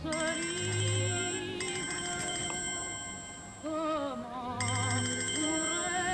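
A phone ringtone plays in a film scene, a bright electronic melody ringing in repeated bursts with a short pause between them, clear and fairly loud with no talking over it.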